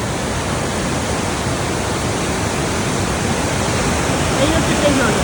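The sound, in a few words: waterfall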